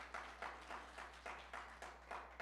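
A church audience claps in a quick, even rhythm, about six or seven close bursts, faint overall with a low steady hum beneath.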